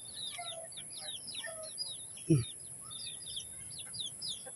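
Chickens on a farm with bean and eggplant plots cluck and chirp softly in the distance, with other birds calling around them and one brief louder knock partway through.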